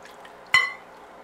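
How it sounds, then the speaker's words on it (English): A short splash of milk poured into a cake batter of melted butter and treacle for an Anzac cake, one brief liquid gush in a quiet kitchen. "Pour in your cup of milk"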